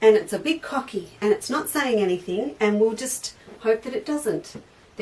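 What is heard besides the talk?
No everyday noises stand out.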